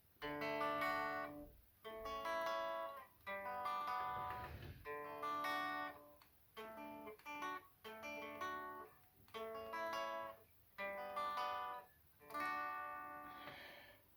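Strummed guitar playing the first verse of a song, a steady rhythm of ringing chords in short phrases with brief gaps between them, close and clear with no talking.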